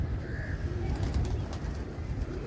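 Pigeons cooing softly at a home loft while grain is scattered for them, a low continuous murmur of coos with a faint brief chirp and light rustling, heard at moderate distance.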